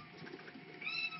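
A cat meows softly a couple of times at a moderate distance, rising into a higher-pitched cry near the end, quiet with no talking over it.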